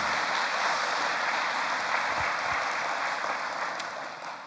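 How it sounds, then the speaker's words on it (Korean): Dense, continuous applause from a church audience honoring some seventy united choirs fills the whole stretch, strong and steady before easing slightly at the end. "참석한 우리 70여 개 연합 합창단들에게 여러분 힘찬 감사의 격려의 박수 보내주시기 바랍니다"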